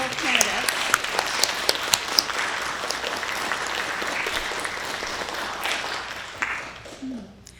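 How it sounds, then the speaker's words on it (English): Sustained audience applause for two candidates at a city council ward candidate forum, a dense burst of clapping with a few nearby sharp claps and some voices, fading out at the end. "Let's give a round of applause to both candidates."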